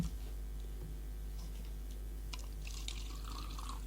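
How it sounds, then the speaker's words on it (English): Water drips from an old-fashioned umbrella onto the floor in faint, scattered taps and splashes that gather near the end over a quiet indoor hum. "when we put down the old-fashioned umbrella, it drips all over the floor"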